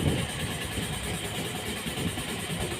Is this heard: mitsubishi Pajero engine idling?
yes